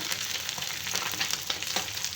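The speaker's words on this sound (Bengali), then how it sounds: "খুবই সুন্দর করে একটু কড়া করে ভেজেছি" A large katla fish head fries crisp in hot oil in a pan, giving a dense, steady close sizzle with faint crackles throughout and no talking.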